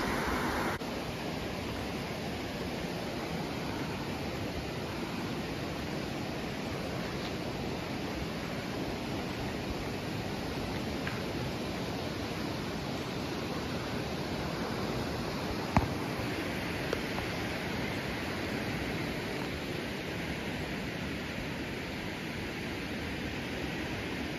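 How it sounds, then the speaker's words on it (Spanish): Steady broadband rush of a river flowing in Cabreja, San José de las Matas, Dominican Republic, a constant wash of water noise with a little wind, continuous and fairly loud throughout, with no talk. "aquí está el río"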